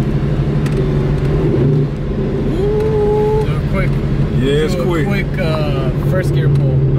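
A Corvette pulls hard in first gear, its engine note rising steadily from inside the car while people talk over the drone.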